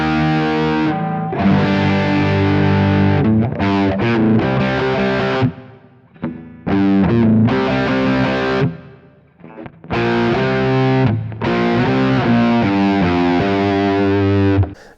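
Heavily effected electric guitar with distortion plays an intro slowly, loud sustained chords in phrases broken by short pauses, no voice.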